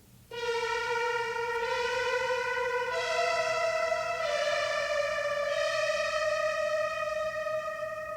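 A sampled melody pushed through heavy effects for a metal intro: a sustained, bright, siren-like synthetic tone that glides between a few long held notes, loud and steady, with no talking.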